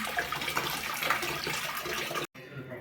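Steady running water from a tap splashes nearby while fish gills are rinsed, a dense continuous rush that cuts off abruptly near the end.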